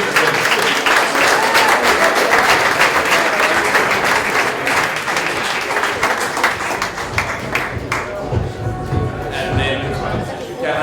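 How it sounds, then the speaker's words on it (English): A conference audience claps for the evening's speakers in a loud, sustained burst that gradually thins and softens toward the end, with some voices mixed in. "I'd love if you do one more clap for everyone who spoke tonight"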